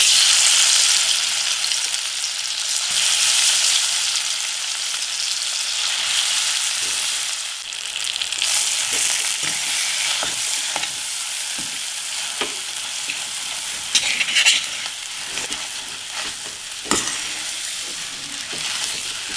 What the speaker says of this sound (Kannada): ಇದನ್ನು ಒಂದು 5 ನಿಮಿಷ ಹೀಗೆ ಬೇಯಿಸ್ಕೋಬೇಕು ತುಪ್ಪದಲ್ಲಿ